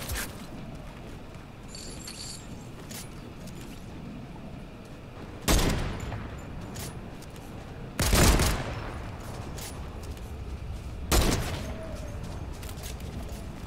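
Sniper rifle shots in the Fortnite video game, three sharp, loud single blasts spaced a few seconds apart, each with a brief echoing tail, over quiet game ambience with no talk.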